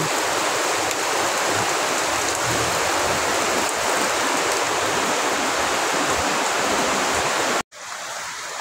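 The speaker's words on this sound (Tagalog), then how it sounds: "Lakas po ng ulan" Heavy rain pours down in a dense, unbroken roar, steady and loud throughout, cut off abruptly near the end before resuming.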